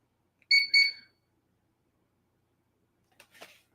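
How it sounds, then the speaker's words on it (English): An electric unicycle's speed alarm gives two quick bright beeps, then after a pause a fainter, rougher double chirp; no talking. "So I just turned off the first and second level alarm."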